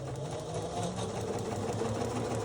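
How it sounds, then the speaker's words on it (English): Sewing machine stitching fabric along a marked line, a steady, fairly quiet rapid mechanical whirring and clatter running continuously close by. "So let me stitch on this line."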